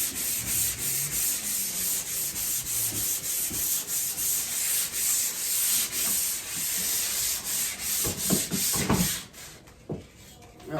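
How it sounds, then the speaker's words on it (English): Hand sanding of drywall with 220 grit sandpaper, a steady close scratchy rubbing that runs continuously in repeated strokes, then thins to a few separate scrapes near the end. "I just used the 100 to start off the sanding, so now I'm going to the 220 to just kind of finish it up,"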